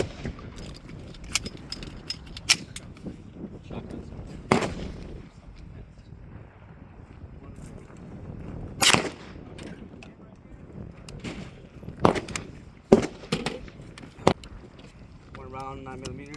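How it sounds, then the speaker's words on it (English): .22 LR gunshots fired outdoors at HG2 backpack body armor, several sharp cracks spaced irregularly with wind noise rumbling across the microphone and people talking in between. "we're going to start with the 22 LR and see how that one goes"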